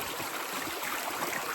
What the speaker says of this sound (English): Now there is a ton of water going over this thing.